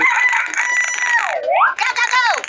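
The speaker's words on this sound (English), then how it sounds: "Chicken." A cartoon chicken in a video game lets out a loud, close, rooster-like call. The call is a single stretched, wavering cry with swooping pitch, followed by short clucky tails.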